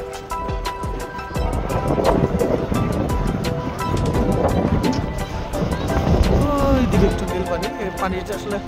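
Sea waves wash against an island shore in South Korea in winter, a steady loud rush with wind buffeting the microphone throughout.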